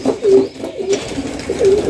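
Domestic pigeons near a nest with a chick coo close by, three low rolling coos spaced evenly across a short moment, with no talk.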